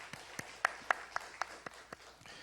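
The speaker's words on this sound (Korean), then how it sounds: "우리 격려의 박수 한번 보내주시면 감사하겠습니다." Sparse, quiet clapping from a church congregation at an Easter service, a handful of distinct claps in an uneven rhythm within a reverberant sanctuary.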